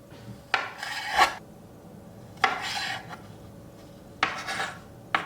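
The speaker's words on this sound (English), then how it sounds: "For this salad, I'm going to cut up some tomatoes that are from our garden." Knife slicing through homegrown garden tomatoes on a board, three separate rasping cuts spaced a couple of seconds apart, close and moderately loud with quiet pauses between.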